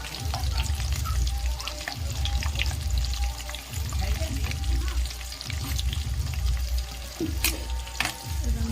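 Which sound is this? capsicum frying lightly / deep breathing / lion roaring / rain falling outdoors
capsicum frying lightly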